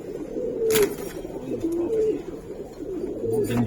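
Giribaz pigeons coo in a few soft, low, rolling calls, close by over a steady murmur of background noise.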